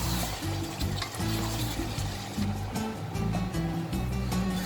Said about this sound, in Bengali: এবার এটাকে ভালো করে নাড়াচাড়া দিয়ে আমি প্রেসার কুকারে বসিয়ে দেবো সেদ্ধ হওয়ার জন্য।